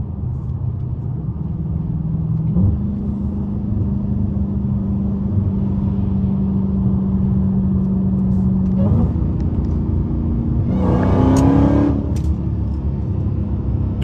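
A Dodge Hellcat SRT car heard from inside holds a steady, loud engine drone, then surges into a brief harder rev near the end while driving through the city.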